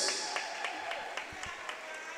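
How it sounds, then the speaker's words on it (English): A crowd applauds a player at a college volleyball match, producing a steady wash of clapping with a few sharper individual claps standing out, heard at a moderate distance. "Round of applause for number 5, Taylor Phipps."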